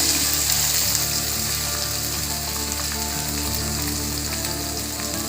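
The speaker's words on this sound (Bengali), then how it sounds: "এবারে আলু আর ভেন্ডিটা একসঙ্গেই দিয়ে দিচ্ছি।" Potatoes and okra sizzle together in a pan with cumin seeds, a steady, dense crackling hiss that runs unbroken and fairly close, with no voices.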